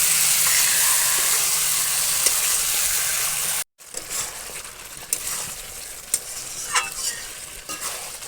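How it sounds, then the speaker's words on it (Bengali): Meat stir-fried in spiced oil with a loud, steady sizzle and hiss, broken by a brief pause, then resuming as softer sizzling with scattered scraping and clinks of a stirring utensil. "মাংস দিয়ে ভালো করে কষিয়ে নিচ্ছি"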